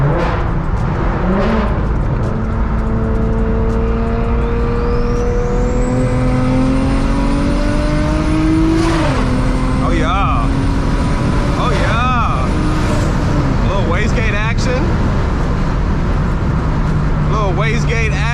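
A straight-piped, single-turbo BMW 335i with the N54 engine cruises and accelerates on a highway, its loud raw exhaust drone rising with revs and turbo spool whistling on top. Occasional wastegate chatter and shifts break through while people talk over it.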